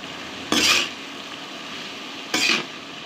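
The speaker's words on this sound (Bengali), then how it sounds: "এখন চাল কুমড়া কষিয়ে দিয়ে রাখা চাল কুমড়াগুলো দিয়ে এখন একটু নেড়ে দিই।" Sautéed ash gourd is stirred in a pan with onion, giving two short scraping, sizzling strokes about two seconds apart over a quiet background.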